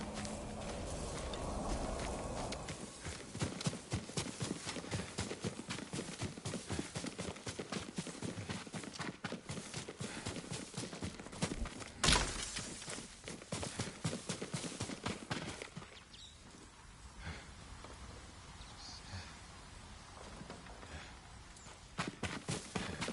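Horse hooves clip-clopping at a steady walking pace in the video game Ghost of Tsushima, fairly loud and continuous, mixed with ambient game sound that thins out near the end.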